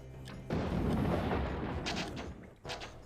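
Unit volleys open fire in the fantasy battle game Warhammer: Dark Omen, a loud burst of rumbling gunfire and booms that swells abruptly, fades, then flares again briefly near the end.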